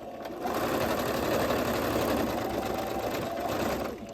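A sewing machine runs a steady, continuous stitch through fabric for a French seam on a flared dress, starting, holding an even whir and then stopping, close and alone.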